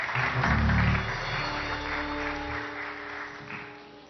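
A television studio audience applauds to send off a guest on a Turkish daytime show, clapping loudest at first and then thinning under a steady bed of music that carries through.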